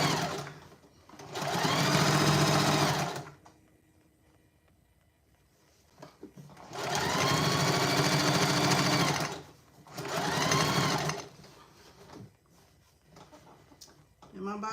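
A sewing machine stitching a beginner's tote bag with the bobbin thread running low: three sustained bursts of rapid mechanical whirring, separated by quiet pauses with light handling noises and a little talk.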